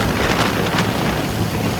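A Navajivan Express train running fast in Gujarat, heard from an open door: a loud, continuous roar of rushing wind buffeting the microphone over a steady rumble of wheels.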